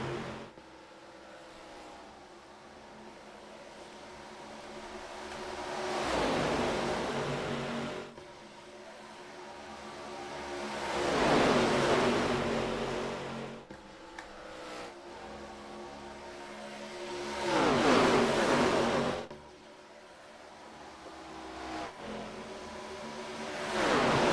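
Race cars from an ARCA race at Atlanta in a racing video game roar past in three distinct swells, each rising to a loud engine pass and fading back to a steady background drone.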